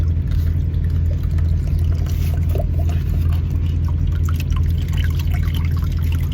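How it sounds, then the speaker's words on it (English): Coconut water pours from an opened coconut into an upturned cup beside a truck, a steady close trickle over a constant low rumble, heard without talk. "put the cup over it and just turn it around. And now you got coconut water going inside the cup."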